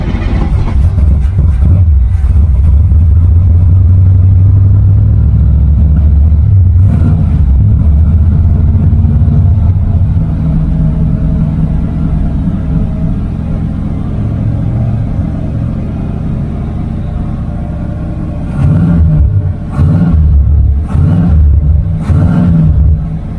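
An old car's engine, just brought back to life with a jump-start booster, runs with a loud steady low rumble that swells at the start, settles into a sustained idle, and then revs briefly in a few bursts near the end.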